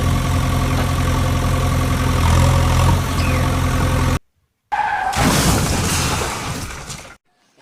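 A toy JCB is driven over a ramp, its motor giving a steady buzzing whir for about four seconds, then a brief silence and a second, shorter burst of whirring.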